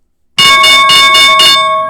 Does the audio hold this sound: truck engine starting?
no